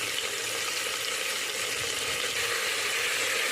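Tomatoes sizzle and fry steadily in a hot pan of onions and green chillies for tomato rice, a continuous close crackling hiss with no talking.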